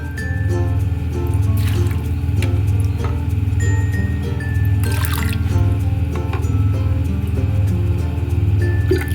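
Water trickles and drips steadily into a cooking pot of lentils for dal, a continuous close pouring with small splashing drips, no speech heard.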